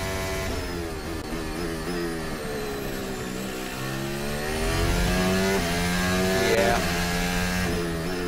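Mercedes Formula One car engine struggling on track at the 2023 Australian Grand Prix, a loud, sustained harmonic drone that rises and wavers in pitch, strained and uneven rather than clean, with no talk over it.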